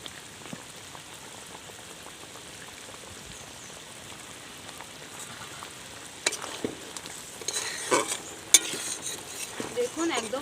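A prawn malai curry simmers and sizzles softly in a pan, then garam masala is sprinkled in and stirred, adding louder scraping and bubbling toward the end.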